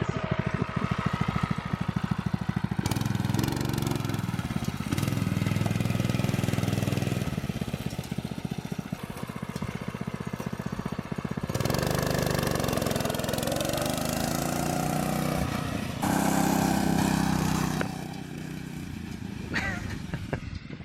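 A vehicle engine idling as it warms up ahead of a drag race, a steady, loud, rough rumble that continues throughout with slight shifts in tone.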